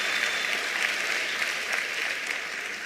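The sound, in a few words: applause for MTN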